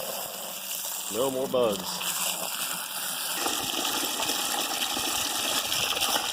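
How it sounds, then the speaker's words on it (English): Water rushes steadily into a container being filled with sanitizing solution for homebrewing, a constant gushing pour heard close up, with a brief spoken phrase early on. "Now we fill. This will be our sanitizing solution."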